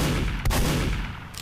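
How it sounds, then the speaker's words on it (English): A single loud, punchy scattergun blast from Team Fortress 2 fires, then a brief mechanical clack follows near the end. "The first one is the scatter gun"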